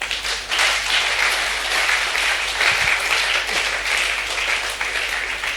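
A church congregation applauding and cheering in acclamation, sustained loud clapping mixed with shouts that fills the space evenly throughout.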